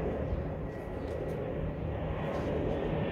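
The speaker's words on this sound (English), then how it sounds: "while this plane flies over there in this parlor" A fixed-wing plane passes overhead, a steady broad engine roar that holds level throughout without clear rise or fall, fairly loud and continuous with no talk over it.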